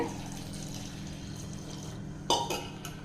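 Crushed turkey berries being washed in water in a kitchen: soft sloshing and swirling of water, then a few sharp splashes and clinks near the end as the berries are stirred.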